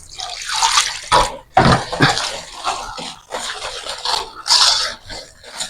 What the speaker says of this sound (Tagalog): Yan, lagay natin tubig.